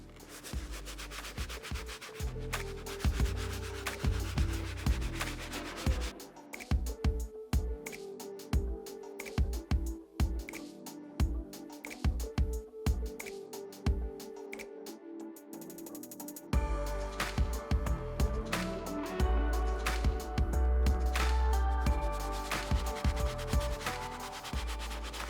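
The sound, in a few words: scrubbing leather sneakers with a bristle brush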